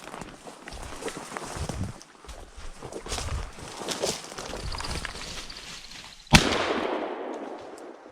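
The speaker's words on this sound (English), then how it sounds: "Just shot a woodcock over point" A shotgun fires once at a woodcock flushed over a pointing dog during an upland hunt, a single loud sharp blast late in the clip, preceded by rustling footsteps through brush.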